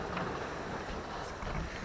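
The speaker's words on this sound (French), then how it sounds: "Là, on a plus de vent que ce qui était annoncé." Steady, broadband wind roaring across the microphone on open water in the Bay of Biscay aboard a sailboat, stronger than forecast, with faint gusts and sloshing waves underneath, constant and close throughout.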